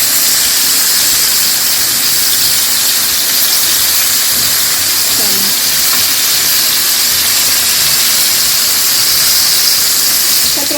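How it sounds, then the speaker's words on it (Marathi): Bombay duck fish fry in hot oil in a pan, giving a loud, steady hissing sizzle that stays constant and close throughout, with no talk. "आपले हे बोंबील मस्त फ्राय झाले आहेत"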